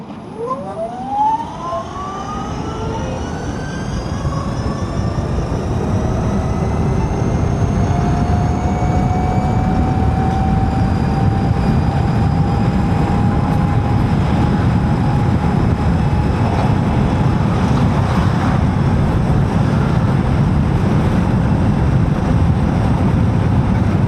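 A 2025 Ather 450X electric scooter being ridden, its rising motor whine sweeping upward in pitch as it accelerates, then holding a steady high tone over continuous loud wind and road rush, with no talking.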